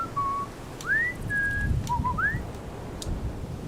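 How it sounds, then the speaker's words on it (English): A character in the Splinter Cell video game whistles to draw guards' attention: a few short, clear whistled notes, some rising and some held steady, over a low background rumble. "I can now whistle"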